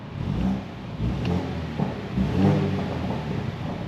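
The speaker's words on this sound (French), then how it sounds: "on entend davantage le 4 cylindres qui a quand même un son extrêmement bien travaillé de la part de BMW" A BMW 135i F40 four-cylinder engine in sport mode hums and rumbles steadily from inside the car, with small swells in revs and no talking over it.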